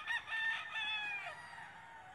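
Chickens with a rooster crowing on a Filipino backyard farm of gamefowl, a short faint crow with clucking, distant and thin.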